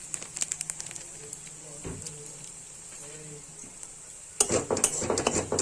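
Ginger, garlic and chili sizzle in hot oil as cumin powder goes in, with a spoon scraping and clinking against the pan and a louder burst of frying near the end.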